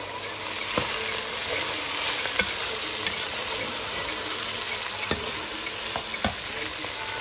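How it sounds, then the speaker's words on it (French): Ground meat with tomato paste frying and simmering in a pan, giving a steady, close sizzle with scattered pops and stirring clicks throughout. "Là, j'ajoute les tomates concentrées. Je les laisse encore mijoter 2 minutes."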